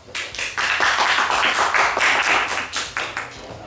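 Audience members at a comedy contest clap for the second-place winner, a fairly close, loose burst of individual hand claps with an uneven rhythm that holds steady throughout.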